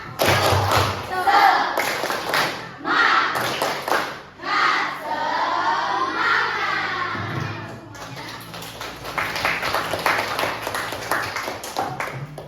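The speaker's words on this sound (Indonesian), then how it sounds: "Biar belajarnya semangat, kita tepuk semangat dulu ya." Schoolchildren in an elementary classroom perform a rhythmic spirit clap, sharp group claps and thumps in patterned bursts mixed with their loud shouted chanting, filling the room for several seconds.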